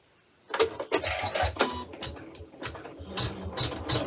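An embroidery machine works on a design held in a hoop, starting abruptly after a moment of quiet and then running with close, irregular mechanical clicking and whirring.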